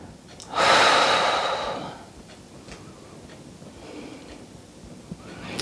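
A single loud breath exhaled during a yoga flow, a strong airy rush lasting about a second, then quiet room tone with faint ticks.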